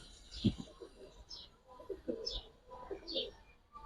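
Giribaz and coloured pigeons in a loft give soft, repeated cooing calls in short phrases, fairly close, with light rustling and faint background murmur between calls.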